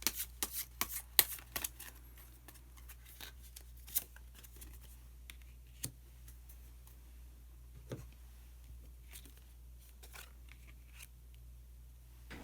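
Tarot cards, an Osho Zen deck, shuffled by hand for a reading, with soft riffling and flicks that come in irregular bursts, close and fairly quiet, and no talking.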